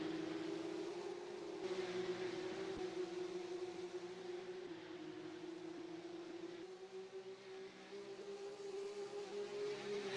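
Porsche Cup race cars at the Swedish Grand Prix give a steady, fairly faint engine drone that holds a constant pitch with only small shifts, no voices over it.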